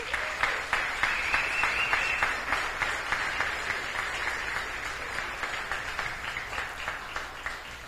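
Applause fills a hall at a preparatory school graduation, a steady crowd clapping that holds for several seconds at moderate loudness, with a few sharper individual claps standing out and no one speaking.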